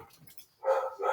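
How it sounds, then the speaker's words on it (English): A pet dog barks indoors in two loud, close bursts, a longer bark followed by a shorter one after a brief pause, with only faint low background noise before them. "sorry, that's my dog."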